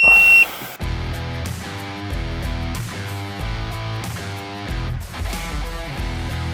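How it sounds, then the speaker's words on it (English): A single short electronic beep sounds at the very start as an OBD diagnostic device is plugged into the port of an Audi TT, then gives way to steady background music. "Plug it into the OBD port, which is somewhere under here in this car. Makes a nice little beep when it's in."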